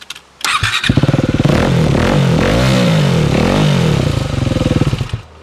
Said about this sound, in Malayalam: എക്സോസ്റ്റ് ഊരുമ്പോൾ ഉള്ളൊരു സൗണ്ടിൽ നിന്ന് ചെറിയൊരു വേരിയേഷൻ അത്രയും മാത്രമേ ഉള്ളൂ